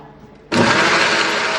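A kitchen blender whirs on suddenly after a quiet moment, blending bananas into a milkshake with a loud, steady motor roar that holds to the end.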